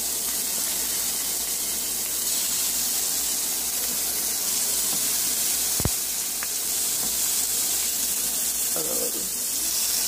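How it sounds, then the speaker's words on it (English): Shrimp seasoned with salt, pepper and smoked paprika sizzling in a hot pan, a steady hissing fry running throughout with one sharp clack midway. "Salt, pepper, and the smoked paprika. So I'm just adding in the shrimp now."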